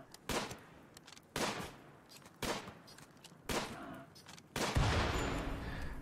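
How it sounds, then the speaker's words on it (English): Gunshots in RimWorld fired at a boomalope: five sharp, evenly spaced shots about a second apart, loud and close, the last one followed by a heavier, sustained blast that lingers to the end. "Johanna, shoot the boomalope"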